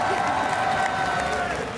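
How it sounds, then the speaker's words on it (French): Audience applause and crowd noise at a gaming show stand during Paris Games Week 2015, a busy wash of clapping with some cheering and voices mixed in throughout. "On peut les applaudir."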